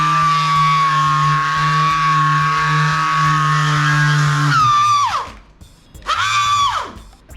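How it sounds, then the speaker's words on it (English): An electric polishing buffer runs on Mustang paint with a loud, steady motor whine. It then sputters and winds down, briefly spins back up and fades out again. No one speaks. "I think my buffer is dying"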